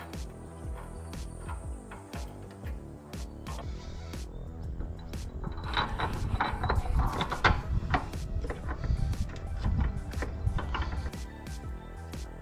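A hand ratchet clicks in quick, steady bursts while tightening bolts on a Steinjager Phantom Series rock slider, the clicking getting busier and louder toward the middle, close and with no voices.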